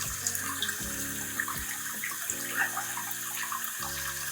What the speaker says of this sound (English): A little water on the ferns also helps them stay alive in these temperatures.